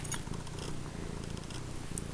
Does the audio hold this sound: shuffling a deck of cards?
no